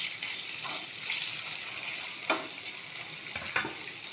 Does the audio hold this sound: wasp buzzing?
no